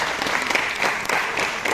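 An audience at a university inter-departmental drama competition results ceremony applauds to welcome a guest: dense, sustained clapping from many hands fills the room for the whole stretch.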